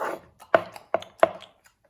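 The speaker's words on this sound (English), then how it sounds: "so I'm just chopping the garlic, just roughly" Garlic chopped roughly with a kitchen knife while making a spicy bean soup: three or four sharp, close blade knocks against a board at irregular intervals, fading to quiet.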